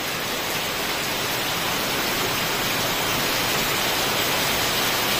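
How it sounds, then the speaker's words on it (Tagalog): Rain falls in a steady, even hiss with no breaks, a broad continuous wash of sound that sits at a moderate level with no voices over it. "It's raining."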